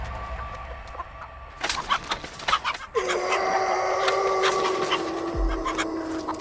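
A chicken in a video game clucks and squawks in a quick flurry of sharp calls, then a sustained droning tone takes over, fairly close and loud.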